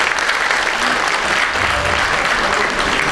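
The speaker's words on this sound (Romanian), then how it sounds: "vă rog să o aplaudăm." Loud, dense applause fills a graduation ceremony hall for the top graduate of the Faculty of Economic Sciences, a steady unbroken wash of many hands clapping throughout.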